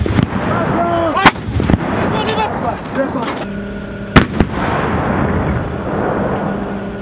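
U.S. soldiers fire weapons in a live fire drill: two loud, sharp blasts ring out close by over a constant low drone, with brief shouted voices between shots.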